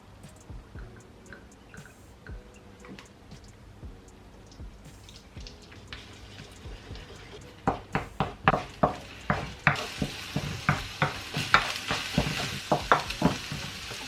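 Scrambled egg sizzles in oil in a hot pan, quiet at first, then a run of sharp spatula scrapes and taps against the pan grows louder and more frequent over the sizzling.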